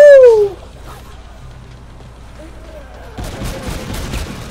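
Grenade launcher fires in Call of Duty Infinite Warfare Zombies: a loud blast opens the clip and quickly decays, then later a burst of sharp repeated gunfire and explosions crackles in the background.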